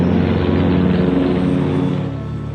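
A loud, steady engine drone from Russian propeller planes roars close by overhead, its propeller hum holding level before easing slightly toward the end.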